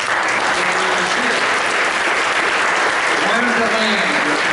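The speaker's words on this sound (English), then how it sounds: "Let's have a round of applause for Deb" A crowd at a hiking club's fiftieth-anniversary chapter meeting applauds steadily for Deb Fedele, a dense even wash of clapping that holds for the whole stretch with a few voices murmuring underneath.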